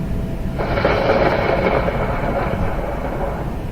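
A rolling thunder rumble sound effect from an audio adventure game, the thunder swelling in abruptly and holding as a loud, sustained roar with no speech.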